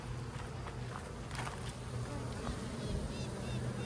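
Honeybees swarm densely around a queen they are trying to ball. A close, continuous buzzing fills the moment with no voices.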